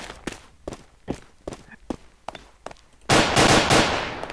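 A pistol in GMod DarkRP fires a series of about seven evenly spaced, sharp, fairly close shots, followed by a sudden loud sustained burst of noise.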